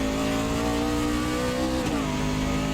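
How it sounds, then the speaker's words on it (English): A racing kart engine recorded onboard during a karting series race at the Roval, a steady high buzzing whine that dips as the throttle lifts, then revs straight back up near the end, loud and continuous with no talking. "You can hear that engine just wind down and then right back up as you touch the accelerator pedal"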